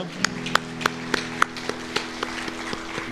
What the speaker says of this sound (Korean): 우리 영광의 박수 주께 올려드리겠습니다